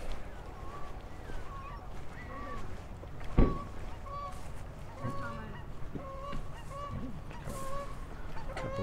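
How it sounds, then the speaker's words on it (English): Geese honking in Livingston, Montana, with repeated nasal honks from several birds at moderate distance over outdoor ambience, broken by one sharp knock partway through. "the geese on the top there."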